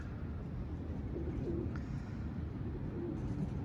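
Pigeons cooing faintly over a steady low background rumble, with soft bird sounds scattered through the few seconds and no voices.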